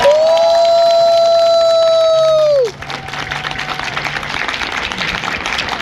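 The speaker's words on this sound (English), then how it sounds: "please give a warm round of applause" A long sustained tone fades out, then a broad wash of crowd applause and cheering rises and continues steadily at an Anime Expo convention panel for a band.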